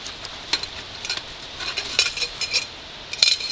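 A stainless steel Boy Scout spoon and a stainless steel cooking cup are handled, giving a series of light metallic clinks and scrapes at irregular intervals, close and fairly quiet, with a sharper clink near the end.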